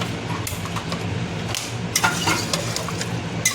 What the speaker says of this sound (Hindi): अब खाली गैस जलाएंगे, इसको खाली भूनना है।